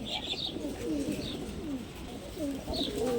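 Female pigeons kept for sale coo in low, rolling calls, several soft coos overlapping against a steady background hum, fairly close.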